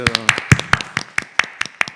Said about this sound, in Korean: 이인숙 전사님 가정 박수